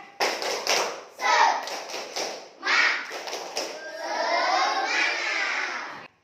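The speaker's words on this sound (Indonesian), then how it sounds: "sekarang tepuk semangat" A group of primary school children claps in a quick, rhythmic pattern in class, then their voices rise together in a loud, sustained chant.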